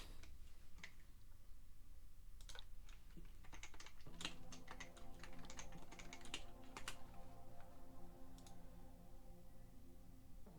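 A computer keyboard clicks during a livestream, with irregular quiet keystrokes at first, then a faster run of typing over a low steady hum, faint and close.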